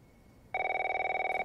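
An old-style telephone bell rings continuously in The Last of Us Part 1 after a quiet room tone, a loud steady electronic trill that starts abruptly and keeps going without pause.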